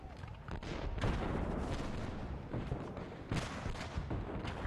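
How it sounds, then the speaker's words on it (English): Cannon artillery fire booms through a Civil War-era scene, heavy rumbling blasts rolling and overlapping at moderate distance, with a few sharper thuds standing out from the continuous din. "We have heard the loud booming of cannon all day."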